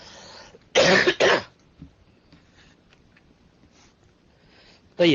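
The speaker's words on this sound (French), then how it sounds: "Maintenant quand je tousse, naam, et surtout ces 2 derniers jours, je tousse de ma poitrine." Several sharp chest coughs close by: a quick pair near the start, then a faint pause with quiet background, and another cough cut off at the end.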